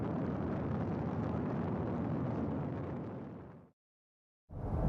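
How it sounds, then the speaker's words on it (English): A SpaceX Falcon 9 rocket launches from Kennedy Space Center with a steady, broad, rumbling roar. The roar cuts off abruptly into total silence for almost a second, then comes back. "watch the launch from Kennedy of SpaceX's Falcon 9 rocket"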